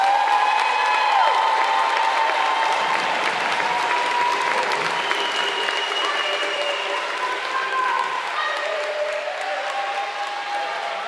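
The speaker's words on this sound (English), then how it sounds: "Let's give one more round of applause for the class of 2026." A large crowd at a graduation ceremony applauds steadily, with scattered cheers and whoops rising above the clapping throughout.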